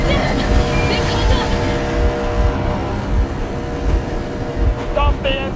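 Vehicle engine running in the video game Metro Exodus, a steady low rumble under game dialogue, with people speaking over it throughout.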